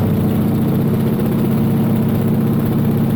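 A North American AT-6 Texan's radial piston engine idles steadily during a pre-flight run-up, a loud, continuous low rumble with an even throb and no talk over it.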